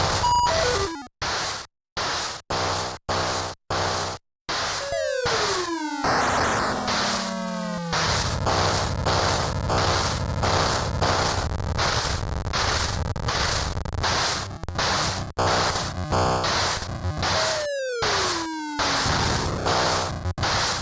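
Galaxian-style arcade shooter effects from an Atari 8-bit game ring out loud and continuous: choppy bursts of harsh electronic tones, descending laser-like sweeps and dense static-like bleeps stacked over each other with no voices.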